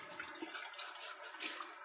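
Water runs and splashes steadily while rinsing a milking machine, a bright continuous wash of sound, close and fairly loud with no talking.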